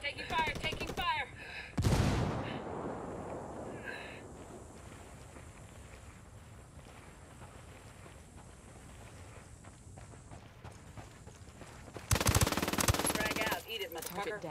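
Gunfire in the video game Ghost Recon Wildlands, with a loud burst early, a quieter stretch of faint rattling shots and footsteps, then another loud sustained burst near the end.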